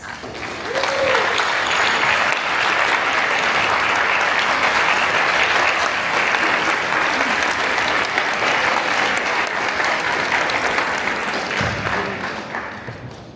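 A gala audience applauds its elected officials with a full, sustained ovation from a large crowd, rising quickly, holding steady for over ten seconds, then fading out.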